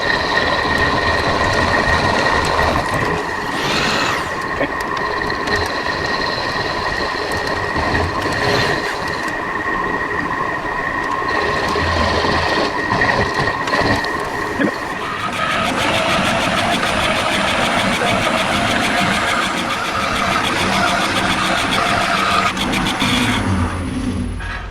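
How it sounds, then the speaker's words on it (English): A milling machine cuts a metal part for a Delta Rockwell band saw tracking adjuster, giving a loud, steady grinding whine with sustained tonal ringing that shifts character about midway and continues without speech. "Let's mill this and then we'll cut that on the saw."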